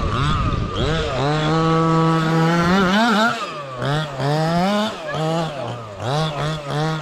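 A 1/6-scale FG Marder nitro RC car with a Cox Baja body screams on a track, its small engine revving up and down in repeated high-pitched rising and falling passes, fairly close.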